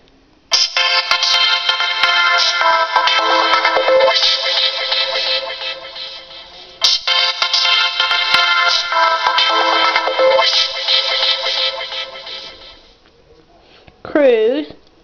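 Flicker ringtone on a Nokia Lumia 520 Windows Phone, a loud, bright synthesized tone that sustains for about six seconds, repeats once, then gives way to a brief voice.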